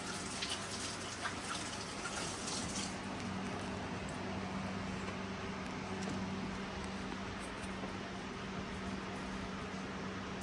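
Water runs steadily from a kitchen tap for a quick rinse, a soft, constant hiss and wash at moderate distance with no voices.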